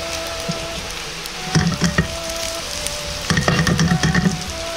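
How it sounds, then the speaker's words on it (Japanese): Chikuwa fish cake stir-frying in a pan, a close, continuous sizzle with two bursts of scraping and clattering as the pieces are tossed. "ちくわを入れて炒めていきます"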